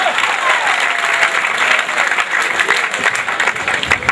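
A crowd of guests claps loudly and continuously at a Pothwari poetry contest during a wedding, dense applause filling the space from start to finish.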